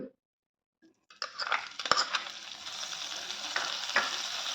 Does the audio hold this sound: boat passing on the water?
no